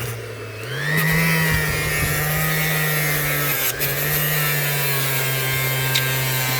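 An old electric sander starts up and runs with a steady, buzzing motor whine, loud and continuous with slight fluctuations as it works.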